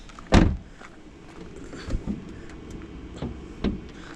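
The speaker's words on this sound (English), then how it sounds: "the bonnet releaser is on the passenger side, so give that a tug. Bonnet pops." Bonnet release on a right-hand-drive Jaguar F-Type Chequered Flag Edition: a sharp, loud clunk as the latch pops, followed by a few softer knocks and clicks, all close by with no talking.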